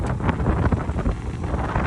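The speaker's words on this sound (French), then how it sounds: "Plein de vent." Strong wind buffets the microphone beside a road next to a broken-down converted camper truck, a steady loud roar with low rumbling gusts throughout and no voices.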